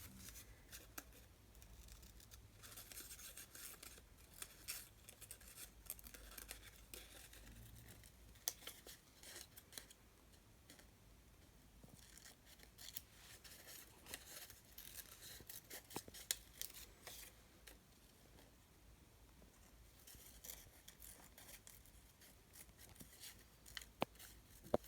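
Scissors snip steadily through an old book page as a shape is cut out, soft, close and faint, with small crisp cuts and paper rustles scattered across the whole stretch.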